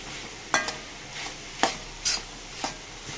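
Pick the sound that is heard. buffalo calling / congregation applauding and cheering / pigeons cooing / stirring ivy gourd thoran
stirring ivy gourd thoran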